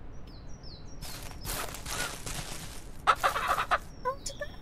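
Chickens in the farming video game Ranch Sim cluck and squawk in a few short bursts, fairly close and moderately loud over a soft steady background.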